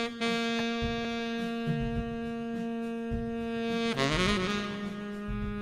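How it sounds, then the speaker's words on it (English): A live saxophone solo played back from an earlier tracking session, sounding as one sustained, steady reedy tone with a strong harmonic buzz that bends and swells near the end, alone with no voices. "here's the live sax solo that we were tracking to"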